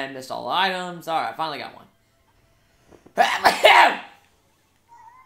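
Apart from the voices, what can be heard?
sneeze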